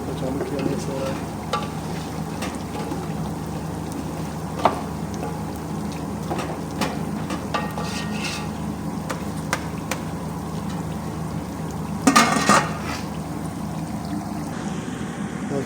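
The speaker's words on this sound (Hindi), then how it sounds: "अभी मसाला लगा कर इसको चालू किया, मिक्स हो रहा है।" Spiced meat being stirred and cooked in a large pot with a big spoon, giving a steady low bubbling and scraping texture with a few sharper clinks and a brief louder burst near the end.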